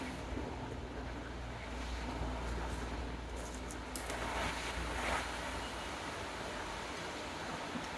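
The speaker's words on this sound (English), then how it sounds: "the wind is really kicking up out there" Strong wind gusting outdoors, a steady broadband rushing roar that swells and eases slightly, continuous throughout with no voices.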